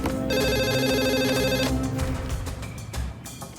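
A telephone bell rings in a rapid trill, loud and close, then stops, leaving fainter clattering noise behind.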